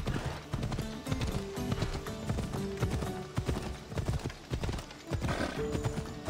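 Rhythmic clip-clop of galloping hooves in Assassin's Creed Odyssey, over a busy game soundscape with music, and a horse whinnies partway through.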